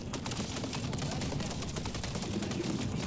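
Dense, continuous automatic gunfire from MW3 Zombies with insta-kill active, rapid overlapping shots filling the whole stretch at steady loudness, with no talk over it.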